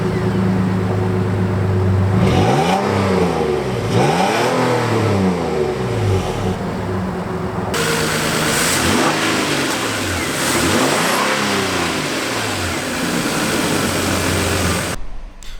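A 2017 Nissan Frontier's 4-liter V6 starts and idles, then takes four sharp revs that climb and fall back, loud and close, before a brief pause and a final cut-off.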